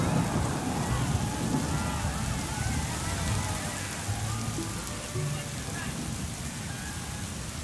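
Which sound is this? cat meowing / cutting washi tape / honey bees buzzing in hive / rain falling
rain falling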